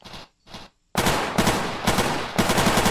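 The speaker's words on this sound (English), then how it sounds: "this gun works right. Look, watch. Right, it kicks back. This is how a gun should handle." A Thompson submachine gun fires in a VR shooting game: two short bursts, then a sustained loud rattling stream of rapid shots with slight pulsing, close and punchy, with no talking.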